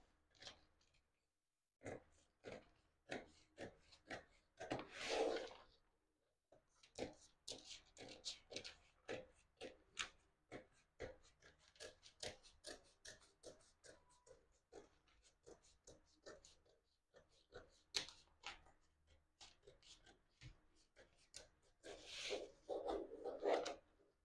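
Scissors cutting paper along a drawn line on a sleeve pattern, a quiet close sequence of rapid crisp snips and rasps in bursts separated by short pauses.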